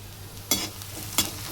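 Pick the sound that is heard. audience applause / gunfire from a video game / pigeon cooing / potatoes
potatoes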